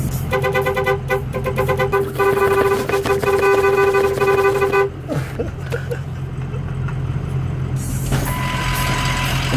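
A big truck idles and moves with a steady low engine drone, while a loud multi-tone horn or beeping sounds in repeated bursts over the first half, followed by rumbling movement and a brief closing tone.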